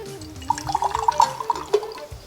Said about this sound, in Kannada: ಸೊ ನೀರು ಹಾಕಿ